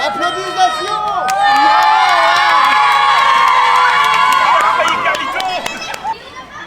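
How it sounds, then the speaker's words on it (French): A large, lively crowd cheers and whoops loudly, with children shouting over a sustained roar and scattered claps cutting through near the end. "Bravo! Applaudissements!"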